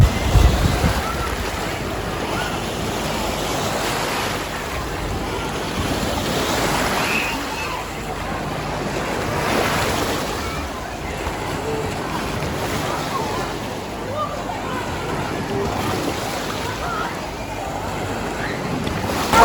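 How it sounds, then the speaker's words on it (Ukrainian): Wave pool at the Karpatia water park in Mukachevo, with a continuous broad wash of surging water and wind buffeting the microphone, rising and falling in slow swells. "Ну і ззаду у мене басейн з хвилею."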